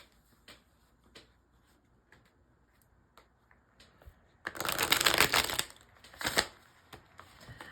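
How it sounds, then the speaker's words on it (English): A large tarot deck is handled and shuffled: sparse soft card taps and clicks, then a dense riffling burst in the middle, followed by a few more flicks, close and quiet. "hard time shuffling this bigger deck because there's something wrong with my left thumb"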